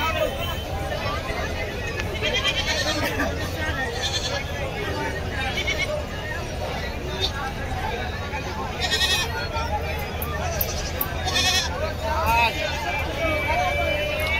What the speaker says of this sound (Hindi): देख सकते हो ढेर सारी बकरियाँ बिकने के लिए आए हुआ है।